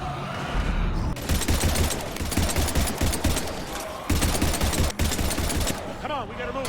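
Rapid bursts of gunfire crackle through a Mass Effect 3 video game battle, dense volleys rattling almost continuously with brief gaps, while shouting voices and other battle noise mix in.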